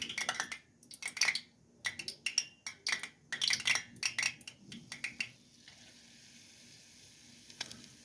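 A ball of corn fritter batter drops into hot frying oil. A quick run of clinks and taps comes first, then a steady, soft sizzle settles in and continues to the end.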